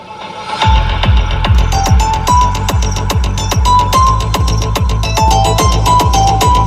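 Music with a steady thumping beat plays through only the rear speakers of a Tata Hexa, bass pulsing regularly and a melody above, somewhat distant and enclosed.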